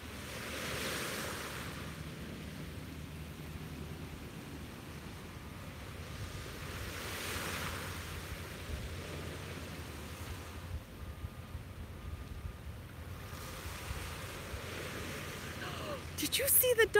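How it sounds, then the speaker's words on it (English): Ocean waves breaking on a beach at sunrise, a continuous wash of surf with a few swelling crashes, steady wind rumble on the microphone throughout. "listen to a few more of these amazing waves"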